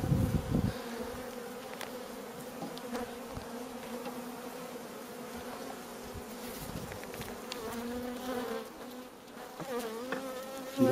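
Honey bees buzzing around an opened hive during a queen cage installation: a dense, steady drone of many wings, close and continuous for the whole stretch, with occasional louder passes near the microphone.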